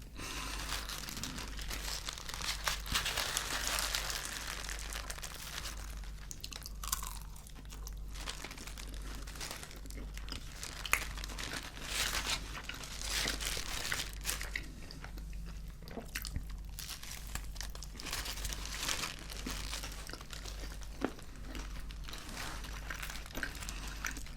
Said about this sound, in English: There's definitely like a crunch in there of some sort. I think it could be nuts inside the bread.